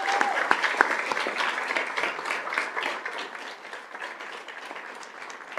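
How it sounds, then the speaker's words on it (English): Audience applause at a school district governing board meeting, a steady mass of clapping hands filling a meeting room at moderate level, with a few sharper claps near the start and no talk over it. "If we can give them a round of applause."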